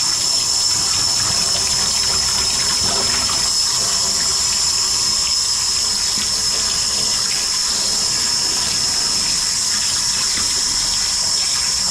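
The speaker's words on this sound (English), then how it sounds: "When that water hits them, they get to moving around." Water pours and splashes steadily into a container holding live bullfrogs, a continuous rushing gush with faint movement beneath, close and fairly loud throughout.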